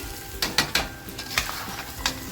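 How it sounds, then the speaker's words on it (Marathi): Crab curry masala frying on a slow flame, a soft low sizzle with a few quick spoon scrapes and taps against the pan, close and brief. "स्लो फ्लेमवरतीच फ्राय करायचे आहे"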